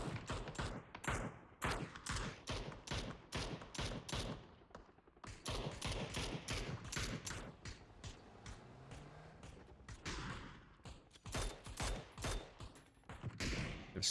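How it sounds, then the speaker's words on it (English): Dense, rapid gunfire from a competitive PUBG battle royale match, with long-range shots cracking in tight bursts and fusillades almost continuously, loud and close in the mix, with only brief lulls. "Some long-range shots here."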